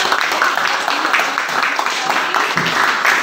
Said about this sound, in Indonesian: Ya, kita berikan tepuk tangan.